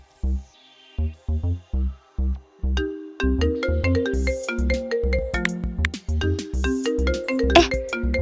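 A melodic phone ringtone in the video game Sakura School Simulator plays, starting with short separated beeps and then running into a continuous bright tune, loud and close.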